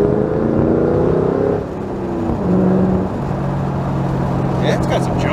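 A tuned car accelerates hard in second gear, its engine droning loud and close with rising tones that shift partway through, heard from inside the cabin.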